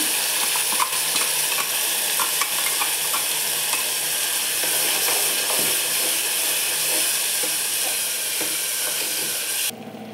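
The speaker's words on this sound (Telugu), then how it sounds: "ఇప్పుడు రెడీ చేసి పెట్టుకున్న పేస్ట్ వేసుకునేస్తాము." Masala paste fries in a pan with cashews and green chillies for coconut rice, a loud continuous sizzle and hiss broken by occasional stirring scrapes, cutting off abruptly near the end.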